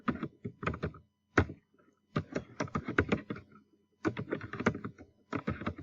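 Someone types a chatbot message on a computer keyboard, with quick close bursts of key clicks separated by short pauses.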